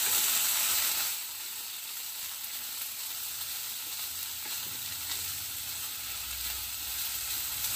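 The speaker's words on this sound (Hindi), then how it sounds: "अब इसमें ऐड करेंगे भीगे हुए समा के चावल, इनको हमें गुलाबी होने तक भूनना है।" Soaked samak rice roasts in a hot pan with a steady, close sizzle that is louder for the first second and then settles into an even hiss, with no talking.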